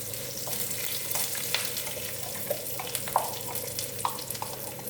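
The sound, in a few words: curry leaves frying in oil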